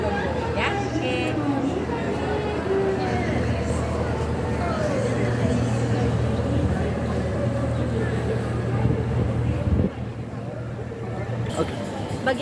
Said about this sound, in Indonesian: kita bisa menaiki kapal yang akan mengelilingi kota di sekitar Osaka seperti ini